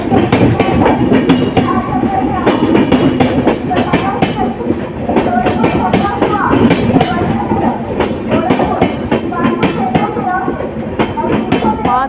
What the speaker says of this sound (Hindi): 5 मिनट हॉल्ट के बाद अपनी ट्रेन पौने 6 घंटे डिले के साथ निकल चुकी